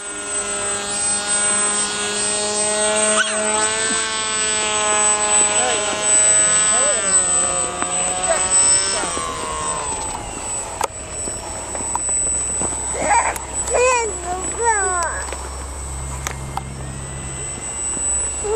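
A small model flying-wing airplane in flight gives off a steady whining drone from its motor and propeller that rises and falls in pitch as it passes, with people talking nearby throughout.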